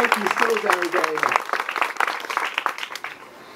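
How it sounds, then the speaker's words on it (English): Audience applause at a Democratic club summer celebration, a steady patter of many hands clapping that gradually thins toward the end, with a voice talking over the start. "Give them another big round of applause."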